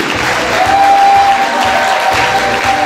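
Audience at a prize ceremony applauding the winner, loud, continuous, close clapping from many hands with a steady rhythm throughout.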